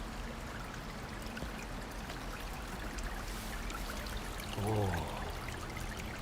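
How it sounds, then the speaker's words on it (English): Clean water rushing along a small stream in Tokyo, a steady broadband flow filling the whole stretch, with a brief voiced exclamation near the end. "here comes the water"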